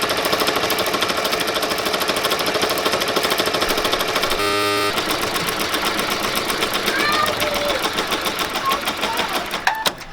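A domestic embroidery machine stitches black thread in a fast, steady, loud mechanical chatter that runs the whole time, with a brief change in tone partway through and a few small clicks near the end.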